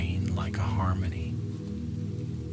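Steady rain patters on a rooftop as a soft, continuous hiss while a calm, quiet voice narrates over it for the first part.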